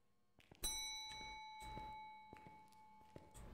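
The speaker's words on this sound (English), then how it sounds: "Did someone just ding a bell?" A bell dings once in Phasmophobia, bright and ringing with a lingering tone, heard near amid soft thumps and footsteps, with no talking.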